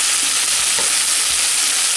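Onion strips sizzle and crackle steadily in a hot frying pan while being stirred for bistec a la mexicana, a dense, loud frying hiss with soft scraping, no talking.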